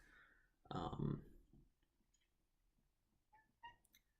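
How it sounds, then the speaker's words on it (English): A faint, short cat vocalization, a low chirping mew, followed by a couple of soft higher chirps in an otherwise quiet room. "my cat's making noises at me"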